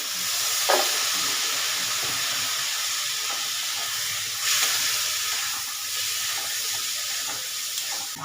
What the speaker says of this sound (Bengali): একটু সামান্য জলটা দিচ্ছি এভাবে মশলাটা তো না লাগে